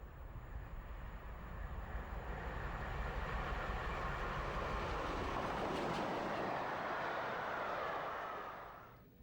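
A passenger train of the Pullman-era luxury kind runs along the rails, giving a steady, dense rumble and rush that swells slightly midway and fades out at the end, with no voices.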